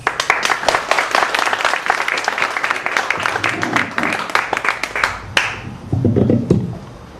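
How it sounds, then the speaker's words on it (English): A small group claps steadily for around five seconds, then the applause stops and a voice speaks briefly. "Let's please give a warm round of applause."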